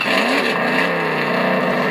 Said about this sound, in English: I'll just show you what the engine sounds like.